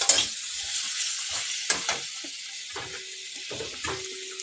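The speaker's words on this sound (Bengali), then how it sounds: "মাছের ঝোলটাও ফুটে উঠেছে" Fish curry gravy bubbles and sizzles in a pan, a steady hiss broken by a few louder spoon scrapes and stirring knocks, close and moderately loud with no talking.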